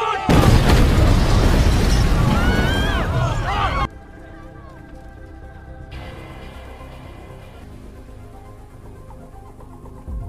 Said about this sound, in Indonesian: dan tak lama rumah pun meledak